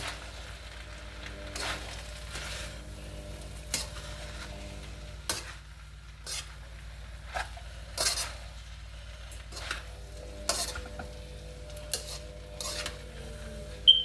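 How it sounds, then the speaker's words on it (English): A spoon stirs and scrapes rice through a pot while Nigerian fried rice is mixed, giving quiet, irregular scrapes and clinks over a soft background hiss. "add in some more rice. And mix thoroughly."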